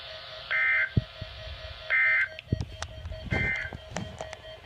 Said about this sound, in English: This concludes this test of the NOAA weather radio tone and SANE alert systems.